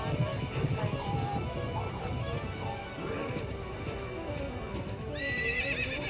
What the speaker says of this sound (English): Right now what we've got is Link on a horse.